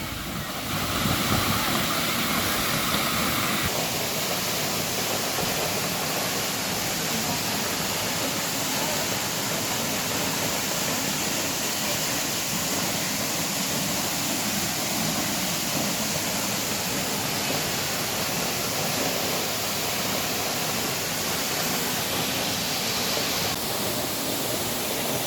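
Curug Luhur Ciambar waterfall in Sukabumi pours heavily even in the dry season, a steady, loud, broadband roar of falling water that fills the whole stretch without pause.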